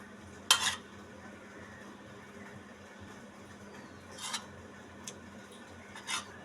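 A spoon spreads chocolate over biscuits in a few separate scraping strokes, one sharper swipe early and several softer rubs later against a quiet background.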